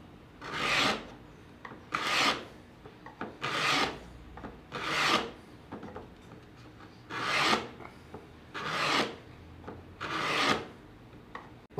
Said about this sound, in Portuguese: você vai puxar isso várias vezes até chegar na profundidade que você deseja que tenha a sua calha